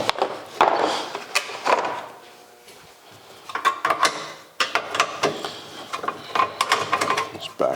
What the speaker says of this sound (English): I've got to find a nut driver, back those out, and then these gauges will actually pop right out.